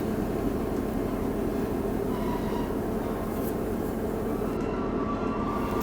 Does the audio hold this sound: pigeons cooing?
no